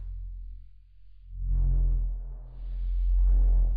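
A bass sound pitched up two octaves and resampled for drum and bass production plays alone, starting with a low rumbling tone, then swelling into a louder, buzzing sustained bass with gritty upper harmonics.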